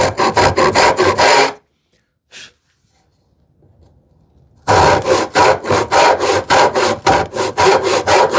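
A hand saw cuts a wooden tenon in quick, loud, rhythmic back-and-forth strokes, stops for a few seconds of near silence with one faint knock, then resumes the same fast, close sawing.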